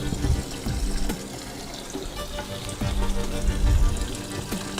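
Hot coolant drains and steams out of a motorcycle cooling system, giving a sizzling, hissing splash of liquid with a few low thumps and gurgles as the flow surges and settles.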